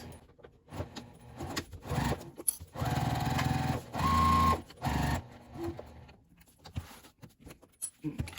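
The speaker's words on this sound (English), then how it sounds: "I'm going to stitch all the way here, all the way around the corner and down, leaving the inside open." A sewing machine stitches a half-inch seam around the pocket pieces of a memory bag in short bursts, several runs of motor whir of about a second each, separated by pauses and light handling noises.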